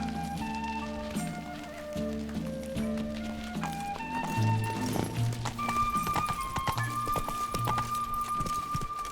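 Roach the horse's hooves clip-clopping steadily from The Witcher 3 video game, a regular rhythmic beat under a layer of game music with rain-like patter, moderately loud and close.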